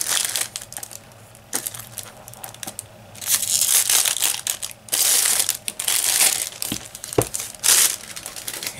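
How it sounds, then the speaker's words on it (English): Plastic packaging is peeled and pulled off a Rockwell Model T razor box, giving loud, close crinkling and crackling in uneven bursts, plus a sharp tap near the end, with no talking. "And it's in a plastic covering, so let's take that out."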